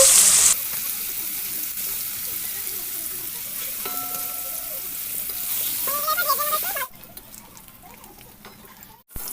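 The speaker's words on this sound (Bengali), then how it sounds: "আমার তেল গরম হয়ে গেছে এবার পনিরগুলো ফেলে দেবো" Paneer cubes frying in hot oil, a steady bright sizzle filling most of the clip before dropping abruptly to a quieter crackle toward the end.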